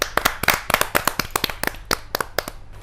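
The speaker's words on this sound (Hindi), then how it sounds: "तो जोरदार तालियों से राजरानी सिंह जी का स्वागत करें।" An audience at a Hindi kavi sammelan poetry gathering claps in a quick, uneven burst of sharp hand claps for about three seconds, close and moderately loud, with no talking over it.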